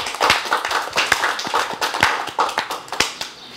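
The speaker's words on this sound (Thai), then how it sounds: "ขอเสียงปรบมือให้เพิ่นนะ" A small audience claps for a guest speaker at a COVID-19 information session, a short burst of sparse, uneven hand claps, close and distinct, with no voices.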